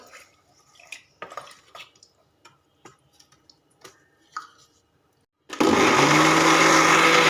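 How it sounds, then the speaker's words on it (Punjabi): A kitchen grinder blends cooked tomatoes for tomato sauce, starting abruptly after a few soft clicks and handling noises and then running loud and steady to the end. "ਹੁਣ ਇਹਨਾਂ ਨੂੰ ਗ੍ਰਾਈਂਡਰ 'ਚ ਪਾ ਕੇ ਤੇ ਪੀਸ ਲੈਣੇ ਆ"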